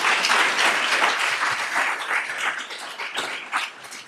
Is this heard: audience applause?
yes